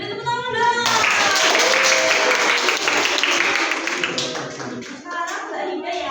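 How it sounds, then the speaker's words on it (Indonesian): Classroom audience clapping for a student poetry reading group, a burst of fairly close handclaps that swells quickly, holds, then thins out into scattered taps with some murmuring voices. "Oke, beri tepuk tangan dong."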